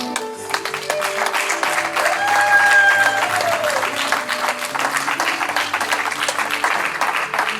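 A church congregation applauds a newly married couple, sustained loud clapping over several seconds with a few tonal sounds and murmured voices underneath.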